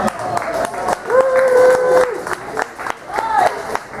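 Audience applause and cheering for a singer at a live open-mic style show, a steady wash of clapping and crowd noise lasting the whole stretch, with a host's voice talking over it near and loud.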